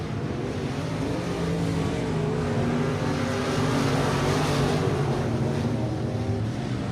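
Race cars roaring around Tulsa Speedway, a steady loud engine drone that rises and holds as cars pass, with a continuous crowd-and-track wash and no clear talking.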